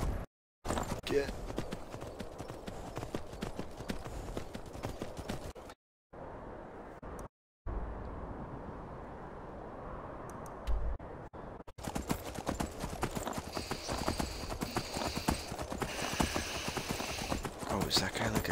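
Horse hooves clip-clop steadily in the video game Skyrim, a fairly loud rhythmic trot that cuts out briefly and then resumes, with voices talking over it.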